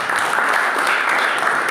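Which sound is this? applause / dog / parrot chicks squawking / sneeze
applause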